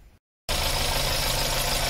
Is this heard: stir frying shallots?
no